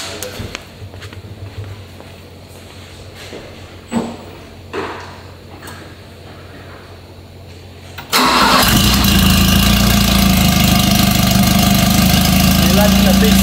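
A Volvo fitted with a 2JZ engine cranks and fires up, jumping to a loud, steady idle that fills the rest of the clip; quieter clicks and talking come before the start.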